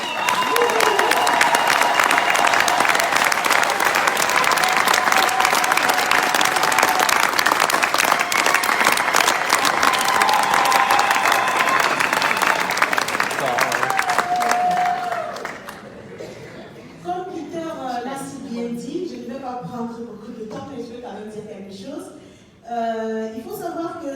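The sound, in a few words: audience applause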